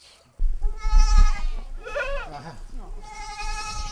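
Goats bleat at a 4-H farm, one loud wavering cry up close, with people talking and rustling around them.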